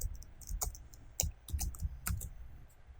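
Fingers type on a computer keyboard at close range, giving a quick, irregular run of crisp key clicks and taps with no voices.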